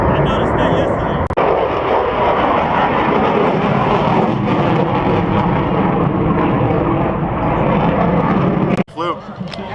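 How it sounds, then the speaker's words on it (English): F-18 fighter jet at the 2016 Syracuse airshow, a loud continuous roaring jet engine sweeping overhead for nearly ten seconds before cutting off, with voices heard at the end. "F-18 doesn't turn that tight."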